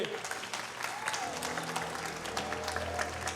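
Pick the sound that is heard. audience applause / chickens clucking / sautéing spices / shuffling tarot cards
audience applause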